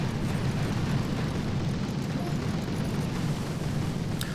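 Grenadier barrage explosions in the Clash of Clans video game, a continuous dense rumble of overlapping blasts that stays steady and loud throughout.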